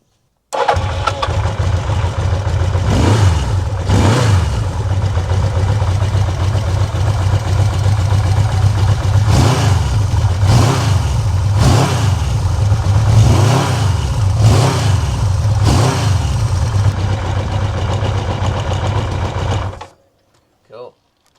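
A Moto Guzzi V7 V-twin motorcycle engine cranks and fires up, then idles with a steady low throb punctuated by several sharp revs rising and falling, before cutting off abruptly.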